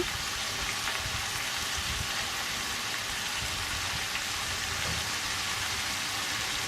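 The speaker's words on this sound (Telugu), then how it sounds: "ఇప్పుడు సన్నగా తరిగి పెట్టుకున్న పాలకూర వేసి లో ఫ్లేమ్లో పెట్టుకుని ఫ్రై చేసుకోవాలి." Finely chopped spinach frying in a pan over a low flame gives a steady, even sizzle that keeps going without a break and is heard alone.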